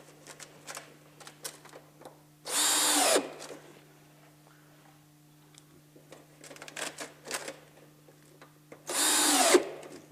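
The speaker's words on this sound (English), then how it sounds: "Notice again, I'm just snugging the screws down nice and tight." A power drill drives screws into a gutter topper in three loud bursts, each a couple of seconds long, with quieter handling clicks and taps between them.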